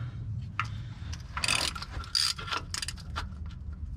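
Ratchet wrench loosening a tight bolt during a car oil change and tire rotation, heard as a few sharp clicking and clattering bursts close by over a low rumble.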